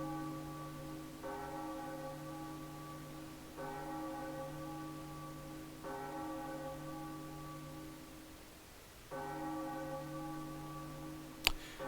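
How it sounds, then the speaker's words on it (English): A bell in The Legend of Zelda: The Wind Waker HD rings from the top of a tower, four sustained metallic tolls spaced a few seconds apart, each ringing out and decaying, with a sharp click near the end. "Ringing a bell."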